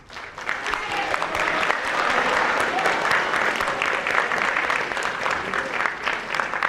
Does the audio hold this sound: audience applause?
yes